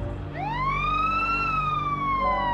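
An ambulance siren sweeps upward into a loud, sustained wail, then eases slowly down and holds, sounding fairly close over a low engine drone.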